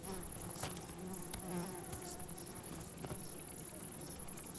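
Wild bees buzzing steadily and close up, a continuous insect drone with faint patter behind it, holding for several seconds and dropping slightly in level near the end.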